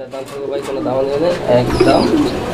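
Pigeons coo at a pigeon fair, several soft rolling coos close by, mixed with someone talking and a busy market background.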